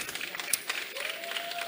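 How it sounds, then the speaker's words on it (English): A congregation at a church ordination service claps in a quiet burst of scattered, overlapping hand claps. A faint tone and a few voices sit beneath the clapping. "give a God, to our Lord, a big hand of applause"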